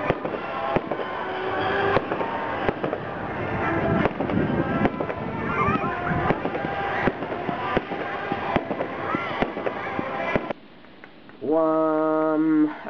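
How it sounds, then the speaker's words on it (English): A fireworks display booms and crackles continuously, with repeated loud bursts and sharp cracks over a dense rumble, followed near the end by a brief stretch of a tonal, hooting sound. "I went to a fireworks display, and it was pretty awesome"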